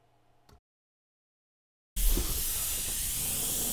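An airbrush sprays Trident Lime paint in a steady, loud hiss that bursts on after a brief silence and holds evenly to the end, with a faint click just before.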